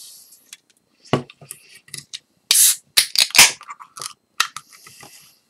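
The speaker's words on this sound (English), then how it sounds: "Now let's open up this can and see what we got." Beer can being opened before an IPA is poured, a scatter of sharp metallic clicks and snaps followed by a louder crack and hiss, close up with no talk.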